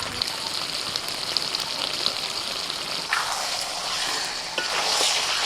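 Chicken legs fry with spices and salt in an open pan, giving a steady, close hiss of sizzling with occasional louder scrapes and surges as the pieces are stirred.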